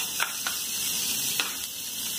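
Onion sizzling in butter in a hot pan, a soft, steady hiss with a few faint clicks and pops, quiet and close throughout.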